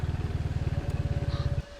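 A motorcycle labours along a rough, hard-to-pass hillside track at Bukit Kapau: a close, steady chugging engine with a fast, even pulse that cuts off abruptly near the end.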